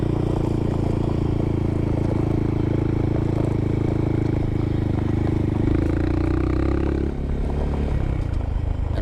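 Honda Monkey motorcycle engine climbing slowly over exposed rock and loose gravel, a loud low chugging throb held at modest revs, shifting pitch near the end with some clatter, no talk.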